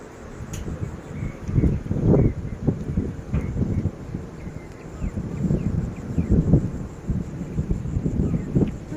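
Gusty wind buffets the microphone in an outdoor chrysanthemum flower garden, a loud, uneven low rumble that swells and fades across the whole stretch.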